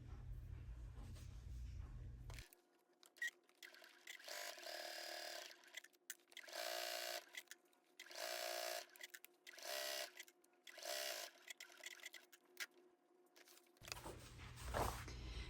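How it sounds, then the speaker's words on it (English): Sewing machine stitching along the edge of a tote bag lining in several quick bursts of rapid whirring, separated by short pauses, close and clear. "Then we're going to take it to the machine and sew along this edge."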